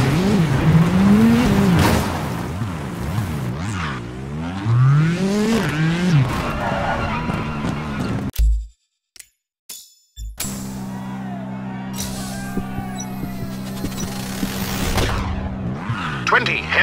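A rally car in the WRC 8 video game brakes hard and corners, its engine revving up and dropping in rapid swings with tire skids and squeals, while a voice talks over the continuous loud racing noise.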